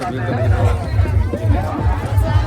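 A dense crowd at Ram Rekha temple in Jharkhand, a steady murmur of many voices chattering and calling out together close by, continuous babble with no single voice standing apart.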